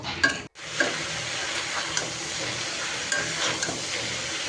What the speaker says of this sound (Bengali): এখন নেড়ে চেড়ে কিছুক্ষণ কষিয়ে নেব